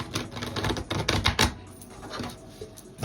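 A deck of tarot cards is shuffled close by, giving quick bursts of papery clicking and riffling that thin out toward the end.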